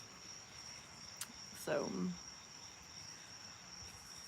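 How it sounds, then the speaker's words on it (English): Crickets chirp in a steady high-pitched trill at night, with faint frogs and cicadas in the background, while a voice speaks briefly over the insect chorus. "you can like hear the crickets and the frogs and the slight sound of the cicadas"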